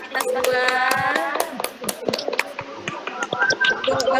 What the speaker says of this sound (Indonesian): Tepuk tangan dong buat yang mengerjakan aktivitas 2.